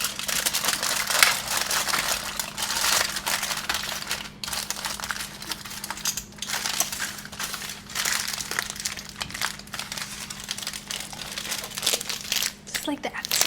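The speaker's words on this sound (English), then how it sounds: "Gonna wrap it in the foil, like that." Aluminium foil crinkles and crunches up close as an ear of corn is wrapped for Mexican street corn, a continuous crackling rustle with brief pauses and a voice talking over parts of it.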